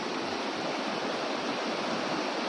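A river by the fields of Kauswagan, Magpet, North Cotabato pours past in a loud, unbroken roar of flowing water, constant and near, with nothing else audible.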